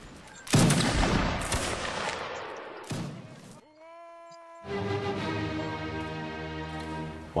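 Massed line-battle volley gunfire in a video game, a loud crashing burst of many shots followed by rumbling echoes, then a sustained tonal hum and layered game noise with nobody speaking.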